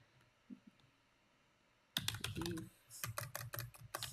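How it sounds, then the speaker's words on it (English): Quiet room, then rapid keyboard typing starts up close, bursts of clacking keystrokes with a brief pause before continuing. "Let's try typing in Chester"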